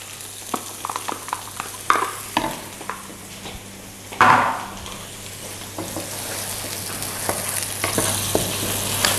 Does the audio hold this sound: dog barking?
no